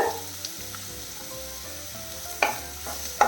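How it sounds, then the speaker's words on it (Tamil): Chopped big onions cook in a pan over a medium flame for a ridge gourd and egg dish, making a soft, continuous sizzle. A few sharp stirring clicks cut through it, and nobody speaks. "இந்த ஒரு வெங்காயம் பெரிய வெங்காயம் கட் பண்ணி வச்சுருக்கோம் இல்லையா அதையும் சேர்த்து வதக்கிடலாம் மீடியம் ஃப்ளேமில் வச்சுக்கோங்க"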